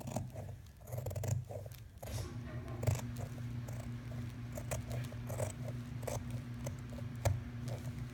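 Scissors cut along the edge of a paper doll sewing pattern, with quiet repeated snips and soft rustling of the paper close by over a low steady hum, no talking.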